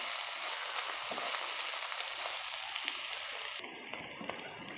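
Ridge gourd pieces fry in hot oil with a dense, even hiss that stays loud and close throughout, easing slightly toward the end.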